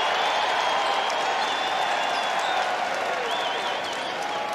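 A college basketball arena crowd at an Oklahoma at West Virginia game roars and applauds after a blocked shot, a dense, sustained wall of cheering with a commentator talking over it.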